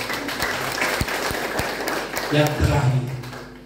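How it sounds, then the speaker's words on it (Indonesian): A church congregation at a Christmas sermon claps, scattered sharp claps building into brief applause, mixed with a voice speaking near the end. "Kasih tepuk tangan untuk Tuhan."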